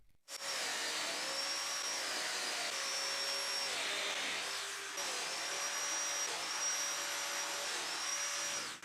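A Festool Domino joiner plunging into MDF panels, a loud close high-pitched motor whine with repeated rising and falling pitch shifts as it cuts, running almost continuously with a brief dip midway.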